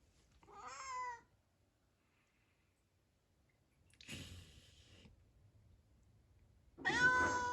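A toy cat gives three separate meows with long pauses between them, the first short and high, the last louder and drawn out, faint background otherwise quiet.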